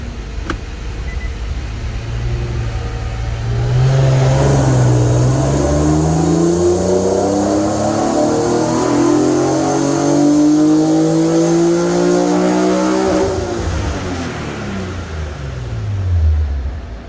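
A tuned car engine making a full dyno pull, loud and close, its pitch climbing steadily through the revs to a peak near the end, then dropping away as the throttle closes, with no talking.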